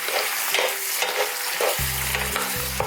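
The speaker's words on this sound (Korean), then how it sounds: "시금치를 넣고 너무 오래 볶는 게 아니고요, 시금치에 숨만 죽이는 거예요." A full bunch of spinach is stir-fried in a hot pan, giving a soft continuous sizzle with scraping stirring strokes and a low tonal hum joining late, close and moderately loud.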